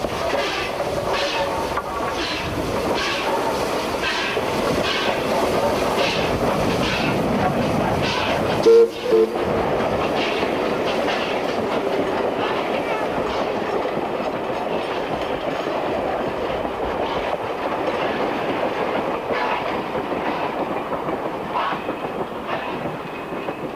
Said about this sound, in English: As the train heads back downhill, curious passengers can sense the thumping sounds of the steam-powered air compressor